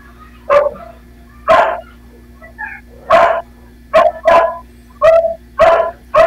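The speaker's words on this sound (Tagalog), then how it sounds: "Ang ingay kasi ng aso." Dogs bark loudly and close by in a quick series of about eight sharp woofs and yips, the barks coming in clustered bursts with brief pauses between.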